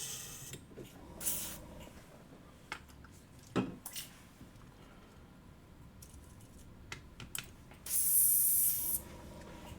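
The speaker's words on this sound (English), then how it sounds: "Alexa, airbrush off." An airbrush spraying paint gives a short, bright hiss late on, preceded by scattered faint clicks and taps in a quiet room.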